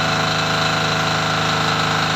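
A generator engine burning oil made from plastic waste runs steadily at close range, a loud continuous mechanical drone with an even idle throb and no pauses.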